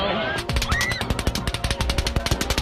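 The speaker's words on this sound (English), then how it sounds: "In under a minute, over 100 rounds are fired into the crowd." Rapid automatic gunfire is fired into a concert crowd, a dense burst of sharp repeated shots in fast rhythm, sounding distant and echoing, with faint screams or cries mixed in.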